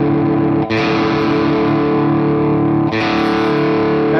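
Guitar strings ring slightly out of tune while being tuned, giving a wavering, pulsing beat in a sustained, heavily effected chord. The strings are struck twice, and each strike rings on loud and full.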